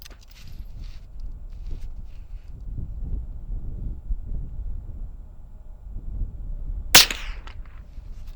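A single sharp rifle shot from a .17 HMR or .22LR cracks out close and loud near the end, after a stretch of quiet wind and low outdoor rumble.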